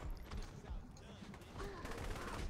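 Rapid gunfire in Saints Row: The Third, a dense burst of shots running steadily through the whole stretch, loud and busy under game sounds and a voice.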